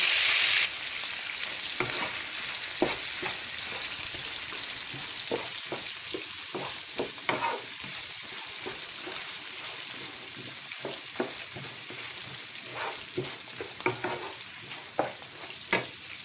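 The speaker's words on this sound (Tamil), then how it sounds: "நான் இப்போ அதில் வெங்காயத்தை சேர்த்துட்டேன். வெங்காயம் நல்லா வதங்கட்டும்." Onion sautés in a pan for tomato chutney with a loud, continuous sizzle and frequent scraping strokes of a stirring spoon throughout, with no talking.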